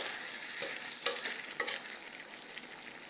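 Shrimp fry in butter and garlic, a soft steady sizzle under sharp clinks and scrapes of a utensil against the pan, fairly close and quiet.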